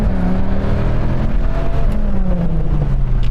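A Dodge Viper accelerating hard during a timed launch run, a loud continuous engine roar whose pitch climbs and then drops at a gear change before rising again.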